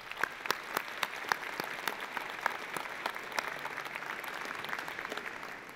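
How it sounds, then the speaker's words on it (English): Audience applause at a university graduation ceremony in the Okanagan, steady clapping from many hands sustained throughout, moderately distant in a large hall with no talk over it. "Let's give him one more round of applause."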